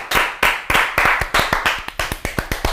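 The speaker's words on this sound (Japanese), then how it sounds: "はい、拍手" Studio clapping from a small group at the start of a talk show, a string of loud, close, crisp claps in an uneven rhythm, about a dozen sharp hits with no talking over them.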